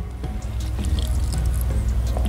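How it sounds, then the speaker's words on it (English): Bougainvillea petals squeezed by hand to press out dye liquid, giving soft wet squishing with drips and trickles of liquid, close and fairly quiet. "get as much of that liquid out of the flower petals as possible"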